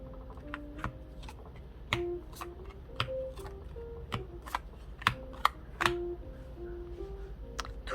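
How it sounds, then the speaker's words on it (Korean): Tarot cards laid out and flipped over during a love reading, giving a string of soft, crisp snaps and slaps spaced irregularly over a faint steady tone, close and fairly quiet, with no talking. "그럼 카드 오픈해 보도록 할게요."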